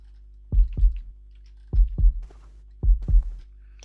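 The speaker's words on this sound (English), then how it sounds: "have no idea why there's a heartbeat in this room" Heartbeat pulsing through a room in the stealth game Splinter Cell: Mission 0 training, three evenly spaced lub-dub double thumps, deep and fairly loud, over a steady low hum with no talking.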